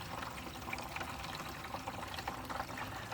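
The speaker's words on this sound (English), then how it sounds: "The water dripping below is just coming off the can I have it sitting on." Water dripping and trickling off a can that sits beneath a chicken waterer, quiet and close, with irregular small drips over a steady faint watery wash, no voices.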